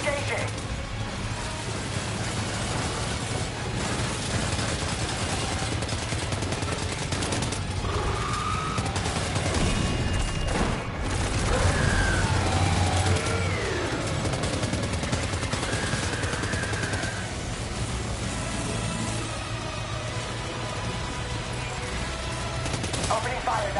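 Sustained gunfire and bursts of automatic shooting in the Death Stranding 2 video game, with steady combat noise and a low engine-like hum throughout, and voices talking over parts of it.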